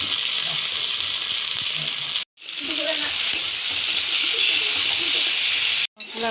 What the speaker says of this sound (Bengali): পেঁয়াজ ভাজা হয়ে গেল, এবার টমেটোগুলো দিয়ে দেবো।